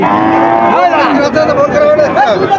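Large cattle at a crowded cattle market in Jessore lowing loudly and close, a long drawn moo that wavers in pitch, with market noise and voices underneath.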